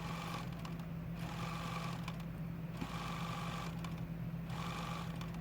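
A sewing machine stitches around a butterfly appliqué on a mystery quilt block, its steady motor hum and rapid needle chatter running continuously and fairly quietly with brief pauses in the rhythm.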